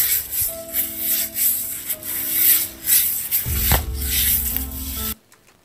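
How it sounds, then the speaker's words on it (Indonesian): Broom sweeping at night, a series of loud rough scraping and dragging strokes in a repeated rhythm, close and alone with no talk, ending in near silence. "kayak suara sapu seret-seret-seret itu."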